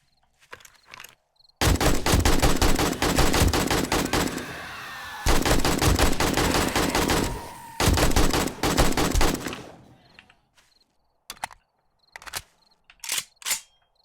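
Video game weapon gunfire in 7 Days to Die: two long sustained bursts of rapid automatic fire separated by a short pause, with scattered faint clicks and single shots before and after.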